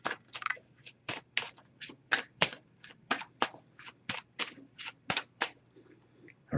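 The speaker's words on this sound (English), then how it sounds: "I'm just going to give this a few shuffles." A Messages of Love oracle card deck being shuffled by hand, a quick run of about twenty crisp riffling bursts in steady rhythm, close and fairly quiet, with no talking.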